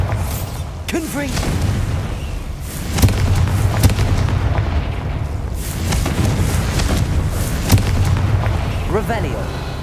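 Spell blasts from Bombarda and Confringo explosion spells in the Hogwarts Legacy video game, a few booming bursts over a steady rumbling game soundtrack, with a voice calling out spell names.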